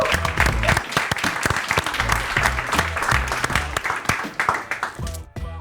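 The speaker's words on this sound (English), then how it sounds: "So let's give them a great shout out and applause." Sustained audience applause at a product management meetup talk, dense and steady with crisp individual claps throughout, fairly loud, cutting off abruptly at the end.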